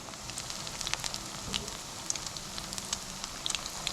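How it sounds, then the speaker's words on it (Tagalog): Steady sizzling of tempura and chicken fillet frying in hot oil, with scattered pops and crackles over a constant hiss. "prito lang naman ito eh"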